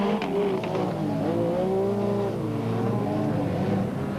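Off-road racing trucks, including the Minolta Toyota Hilux, roar close by in a 1998 race, engines revving and shifting pitch as they accelerate through the field, a loud continuous drone throughout.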